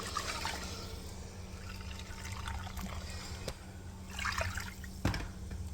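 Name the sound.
pouring hot water into a bowl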